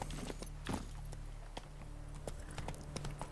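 Horse hooves clip-clopping in The Witcher 3: Wild Hunt on the road toward Novigrad, a fairly quiet, irregular trotting patter of hoofbeats over a low steady ambient hum, with no talk.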